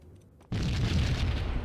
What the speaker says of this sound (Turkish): Üst katı çöktü.